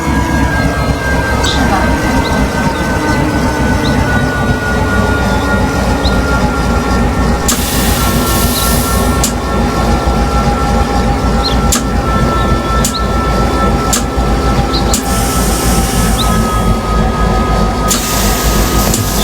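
A regional train on the Dijon–Nancy service rolls steadily into Jarville-la-Malgrange station, its cab filled with continuous low rumble and rhythmic wheel clatter, with occasional brief bursts of brighter noise and a faint voice in the background.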